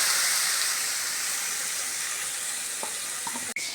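Spices with chili powder, coriander and turmeric fry loudly in a pan for potol posto, a continuous bright sizzle with a few faint stirring clicks and one sharp clink near the end.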